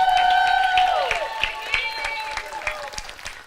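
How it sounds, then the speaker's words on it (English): Scattered applause and cheering from family guests at a celebration, with loud voices and cheers over the clapping early on, thinning to individual sharp claps toward the end. "So please give her a round of applause."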